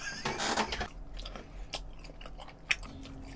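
Someone chews okonomiyaki close to the microphone, with soft wet bites and crunchy smacking sounds in a short irregular run, quiet and with no talking.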